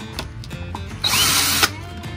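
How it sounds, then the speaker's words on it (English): A power screwdriver whirs for about half a second as it backs screws out of adjustable holster clips, a close, steady buzz standing out against quiet handling noises before and after. "Simply remove the screws"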